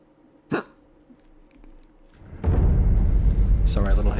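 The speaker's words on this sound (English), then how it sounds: "Sorry, little hiccup." A single sharp hiccup from a player character in the video game Sekiro, a short bright burst standing alone over quiet background, followed by louder game sounds.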